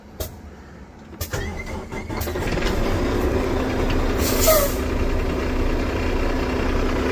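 A 2023 Western Star 49X heavy truck's diesel engine cranks and fires, settling into a steady, fairly loud idle that continues throughout with no talk over it.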